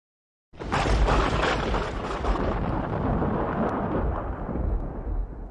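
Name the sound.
thunder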